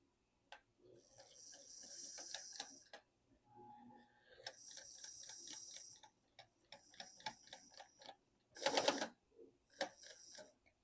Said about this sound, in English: I just simply went back and forth with the sewing machine